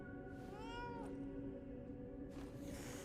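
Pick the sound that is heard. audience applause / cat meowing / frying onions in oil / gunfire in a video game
cat meowing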